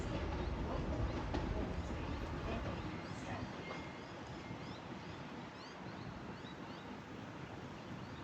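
A train passing Broadmeadow station in Newcastle, a low, continuous rumble that fades slightly over several seconds, mixed with heavy wind buffeting on the microphone.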